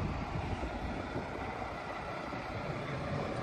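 A steady, rumbling train rolls by close, with a continuous low roar and wind noise buffeting the microphone, and no voices.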